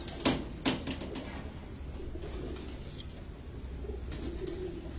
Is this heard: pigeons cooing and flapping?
yes